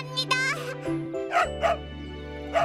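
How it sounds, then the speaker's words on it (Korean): Cartoon dog barking on a farm, a few short bright yips and woofs over light background music, with a voice briefly chiming in. "멍멍이도 좋다는구나."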